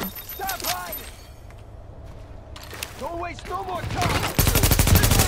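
Automatic gunfire in the shooter The Division, in the Dark Zone, builds into a loud, rapid stream of shots at the end, with voices and game sounds before it.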